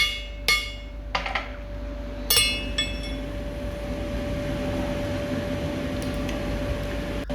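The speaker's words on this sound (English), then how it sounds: "I'm just going to drift the holes out." A hammer drives a drift through the rivet holes of hand-forged scroll tongs in a blacksmith's shop: a few sharp, ringing metallic strikes spaced out over a steady background hum, close and loud.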